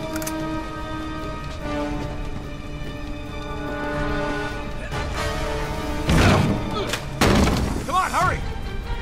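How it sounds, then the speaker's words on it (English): A grenade goes off in Uncharted 3: Drake's Deception Remastered, played on hard mode, with two close, heavy blasts and crashing debris a second apart, over game music and a talking voice. "Oh, grenade."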